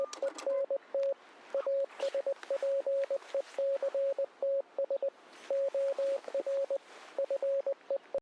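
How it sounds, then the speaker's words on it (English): Morse code beeping in an online alternate reality game, a steady pitched tone keyed into rapid runs of short and long pulses with gaps between letter groups, clear and moderately loud with faint noise behind it. "I'm not gonna lie, Hiccup, I felt really bad for you translating the Morse code"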